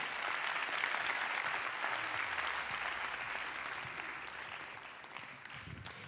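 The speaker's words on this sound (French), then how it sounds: "Sous vos applaudissements, ici, au Théâtre des Quinconces" Theatre audience at the Théâtre des Quinconces applauding during an MT180 regional final, a full, continuous crowd clapping that slowly softens over about six seconds, with a few sharper claps standing out near the end.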